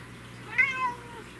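A single house cat meows once, a short mid-pitched call rising and falling, close by with a faint steady room hum behind it.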